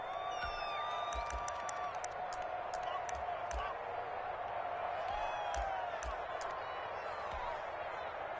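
Crowd at a high school football game, the Battle of the Mills, rising in a broad continuous roar with scattered whoops and claps, loud and sustained while a commentator talks over it.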